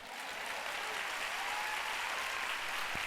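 An audience claps at a sermon gathering, a dense and continuous wash of applause that holds at an even level from start to finish.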